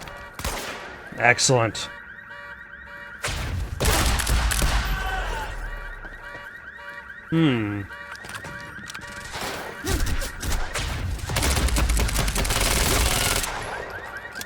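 Quantum Break gunfire breaks out in sharp, rapid bursts separated by quieter gaps, fairly loud and near, with occasional voices speaking between the volleys.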